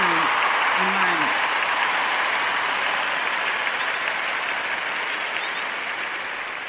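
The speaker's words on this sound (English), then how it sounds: "So let's give them a round of applause" An audience applauds at a donation event for online students, steady, even clapping heard close and continuous, with a brief voice at the start.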